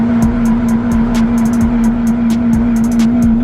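Honda Civic engine droning steadily from inside the car while being driven, a loud constant hum with faint repeated ticks over it.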